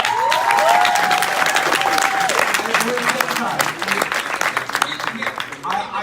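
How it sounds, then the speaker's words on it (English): Audience clapping at a live comedy show at a comic convention, a dense, sustained burst of applause with a voice speaking over it and tapering slightly toward the end. "Ladies and gentlemen, big round of applause for Tim Rial."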